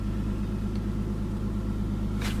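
A parked car's engine idles with a steady, close low rumble and even hum, one brief click near the end.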